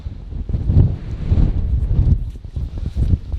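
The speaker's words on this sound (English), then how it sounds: "Jesus, it's windy." Strong wind from Storm Babet buffets the microphone in loud, gusting roars that rise and fall continuously, with no voices heard.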